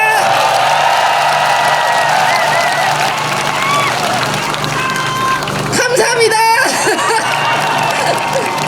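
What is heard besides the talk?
rally crowd cheering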